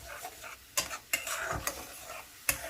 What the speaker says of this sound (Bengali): পেঁয়াজের কাঁচা গন্ধ যাবে এবং তেল ছেড়ে আসবে, সেই ততক্ষণ পর্যন্ত আমি ভালোভাবে নাড়াচাড়া করতে থাকবো